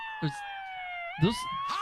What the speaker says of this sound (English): Is that what the sirens are?